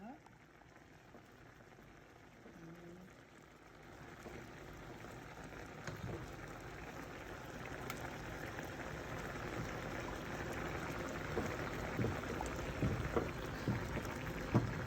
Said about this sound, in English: I've added the roux in, and I'm just gonna stir it all up